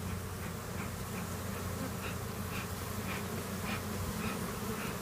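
Agitated honeybees swarm around an opened hive at a farm in Manoa, a dense, continuous buzzing drone close to the microphone with individual bees zipping past.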